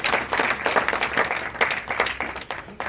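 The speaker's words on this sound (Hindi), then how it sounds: "भारतीय सेना के लिए तालियां।" Audience at a patriotic talk applauding for the Indian army, a short burst of dense crowd clapping, loud and continuous with slight surges, no voices over it.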